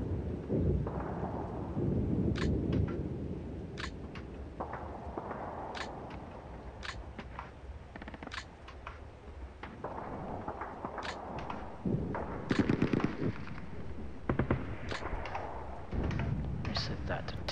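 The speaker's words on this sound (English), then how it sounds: "Mortars." Sharp, scattered mortar impacts and bangs in the WWII wargame SP:WaW, several brief cracks spread irregularly over a rumbling background, with a voice talking at times.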